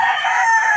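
A single drawn-out gamecock crow, close and loud, filling the brief moment on its own.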